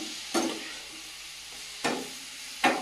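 Radish pieces frying in a pan with turmeric and salt, a soft continuous sizzle broken by three short stirring scrapes spaced a second or so apart.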